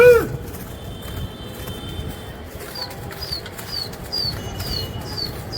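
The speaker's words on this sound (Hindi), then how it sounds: "तो देखें माशाल्लाह परवास कबूतर की चलत देखें" Pigeons kept by a pigeon fancier flying overhead, wings flapping in repeated bursts with soft chirps, fairly close and standing alone over a steady outdoor hum.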